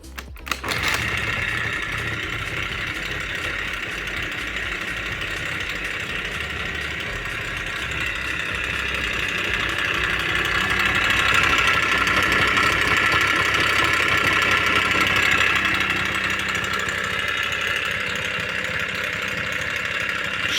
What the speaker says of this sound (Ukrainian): Щось нас гарненько дзвенить в моторі.